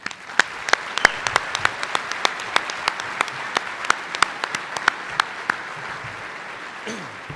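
Scattered, distinct hand claps ring out from the audience at an annual heroes luncheon, sharp individual claps over a soft room hum that thin out and stop after several seconds.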